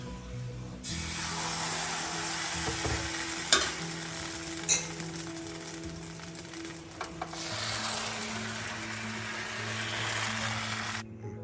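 Vellayappam made with tender coconut water sizzles in a pan oiled with sesame and coconut oil, a steady, moderately loud frying hiss with a few brief clicks, then silence at the very end.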